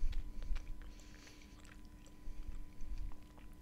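Close, quiet chewing of Azov kaolin clay, with soft crunching bites and fine squeaky grinding in a steady rhythm, no talking.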